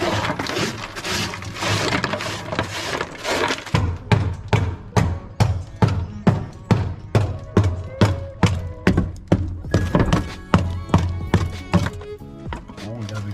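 Old, roughly 30-year-old sound deadening in a Nissan 240SX, frozen with dry ice, being knocked off in a steady run of sharp, close thuds and cracks, about two per second, with chunks breaking loose.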